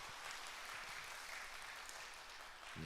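A church congregation applauds its pianist after a choir performance, a faint but steady wash of many hands clapping in a large room, low in level throughout.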